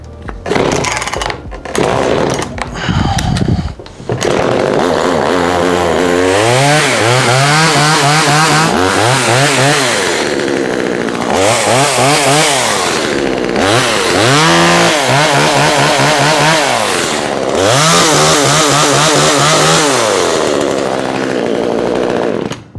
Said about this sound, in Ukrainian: Все, пила заправлена, підкачаємо паливо праймером і запускаємо.